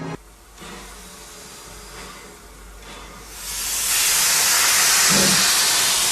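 A steam train on the Isle of Wight hisses, first as a softer background wash, then swelling into a loud, sustained rush of steam that persists to the end.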